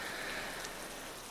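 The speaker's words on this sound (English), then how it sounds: "incorporate rain sounds in the back" Steady rain patters on a surface behind a calm ASMR recording. The soft, even hiss of drops holds continuously with no breaks.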